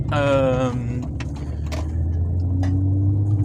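A Volkswagen Golf 3 swapped to a GTI 2.0 8V engine, fitted with a new exhaust line, idles with a low steady rumble and a slight rise toward the end, with a brief voice at the start.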